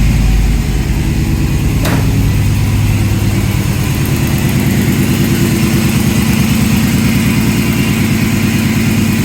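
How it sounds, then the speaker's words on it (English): An old Chevy OBS pickup engine idles with an exhaust leak, giving a steady, close, loud low rumble with a rapid ticking pulse; a single brief sharp click sounds early on, and no one speaks. "Got an exhaust leak I need to fix"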